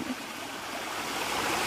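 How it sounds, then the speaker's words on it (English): A garden waterfall runs steadily along a shady garden walk, producing a soft, continuous hiss and splash of flowing water, fairly faint and heard alone without talk. "I put the waterfall here"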